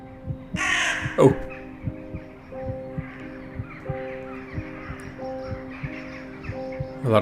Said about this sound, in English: A lot of crows fleeing from bad weather